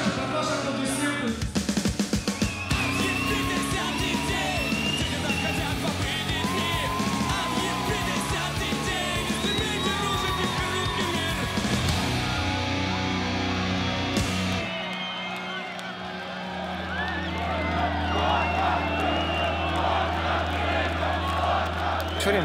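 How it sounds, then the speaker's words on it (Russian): A punk concert crowd yells and cheers in a dense, loud roar over music, with shouted voices rising throughout before the noise thins near the end. "Сейчас, девочки, под ваши аплодисменты"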